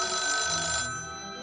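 Telephone bell ringing in a film scene, a bright sustained ring that fades into a quieter ringing tail, heard alone without voices.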